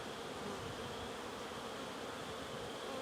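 Honeybees fill the air with a dense, steady buzz during an early-season hive inspection, as a honey super is added. The drone is close and continuous, with no voices.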